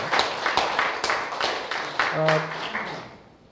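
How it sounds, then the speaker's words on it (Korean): Audience claps in a lecture hall during a 2011 talk on reading the Analects, a burst of applause that fades out toward the end, with a few voices mixed in. "뒤에 계신 박수 한번 해주세요"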